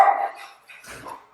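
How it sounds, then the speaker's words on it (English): Miniature Schnauzer dogs bark in a house kitchen, one sharp near bark followed by a fainter second yap, brief and alone. "so if you hear them barking in the background, that's just part of life in the Stalker hou"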